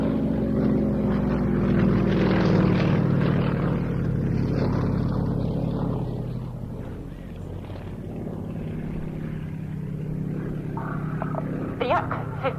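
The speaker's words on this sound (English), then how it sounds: "The Yak-52 is all metal and is powered by a 360 horsepower Fidiniov" An all-metal Yak-52 aircraft with a 360 horsepower engine flies at an airshow at Duxford, its propeller drone loud and steady before easing and fading somewhat midway, then continuing at a lower level.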